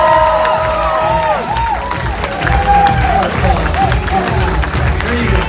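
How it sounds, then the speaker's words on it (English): A crowd breaks into loud applause, cheers and whoops for a woman being introduced as a speaker, the clapping dense and continuous throughout with shouts rising above it. "make some noise right now for the one and only, an amazing lady"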